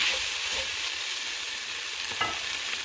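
Chopped bacon frying in a pan, a steady close hiss of sizzling fat with a brief scrape or stir near the end, no talking.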